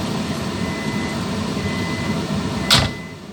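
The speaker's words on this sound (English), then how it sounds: "And that's my rice in the microwave." A microwave oven runs while heating rice, a steady low hum with a faint tone, broken near the end by a short sharp bang like the door or a cupboard.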